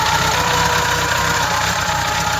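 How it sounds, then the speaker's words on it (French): A Suzuki GTS 1000 motorcycle's original 1000 cc 20-valve engine runs at a steady idle, loud and close, with an even mechanical throb and light ticking and no talk over it. "Donc je vais la démarrer. Moteur 20 soupapes, 1000 cm3."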